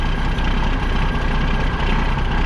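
A Cummins 855 diesel in a 1988 International tandem dump truck idles with a steady, loud, low rumble and an even throb that continues unbroken, with no talk over it.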